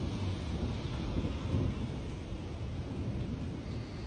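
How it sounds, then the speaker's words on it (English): Low, continuous thunder rumbling through a dangerous storm, a steady broad roar with slight swells, no voices over it. "We're getting some crazy thunder at the moment"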